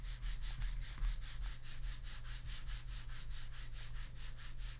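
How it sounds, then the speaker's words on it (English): Worn feet of a Logitech G Pro Wireless mouse scratching across a teal mouse pad in quick back-and-forth strokes, a close, steady, rhythmic rasping like light sawing with no voice over it. "I'll give you this terrible sound test of how scratchy the feet are."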